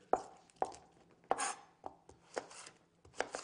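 Vegetables or fruit chopped on a board, heard as a handful of sharp, separate knife strikes in an uneven rhythm with short scraping between them. The sound is close and quiet, with no voices.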